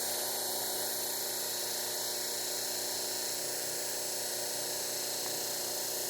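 A Work Sharp belt knife sharpener runs continuously while a knife is ground against the belt, producing a loud, steady high-pitched whine and abrasive hiss with no pauses.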